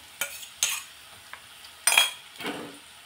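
Four or five green chillies and ten to twelve garlic cloves are stirred in hot oil in a pan for cabbage bhaji. A few sharp spoon scrapes and clinks come in separate bursts over a faint, low sizzle, close by.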